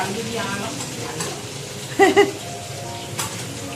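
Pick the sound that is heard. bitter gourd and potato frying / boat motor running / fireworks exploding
bitter gourd and potato frying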